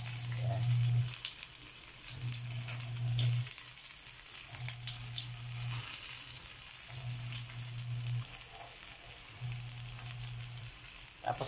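Onion, ginger and garlic sauté in a pot for shrimp and mussel sinigang, giving a steady close sizzle with a low hum that pulses on and off in regular bursts.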